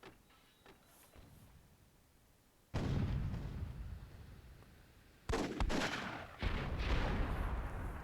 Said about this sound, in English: Oh, Spy's cannon's gonna go down